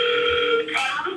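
A phone rings on an outgoing call placed through the GoHighLevel dialer app, one short electronic ring tone that is clear and close, alone without talk.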